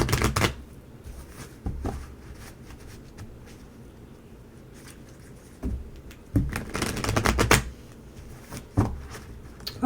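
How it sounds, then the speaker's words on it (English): A deck of playing cards is handled and shuffled close up, with bursts of crisp riffling and flicking separated by quieter handling rustles over about ten seconds. "One more shuffle for you guys."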